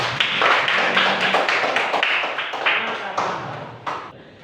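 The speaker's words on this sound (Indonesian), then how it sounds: "kita beri tepuk tangan dulu." A class of students in a lesson claps together, a close, fairly loud burst of irregular clapping that gradually fades over about four seconds, with some speech mixed in.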